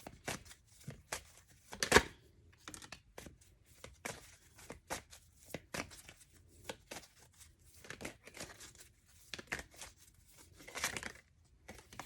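Tarot cards are drawn and handled, giving a run of quick papery flicks, slides and shuffling snaps, close and fairly quiet, with one louder crisp rustle early on and short pauses between.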